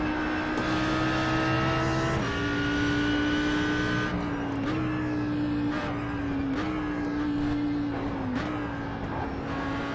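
An Audi R8 GT3 racing engine at Bathurst in a racing simulator game holds a loud, steady, high-pitched drone, with the pitch rising through each gear and dropping at several gear changes over ten seconds.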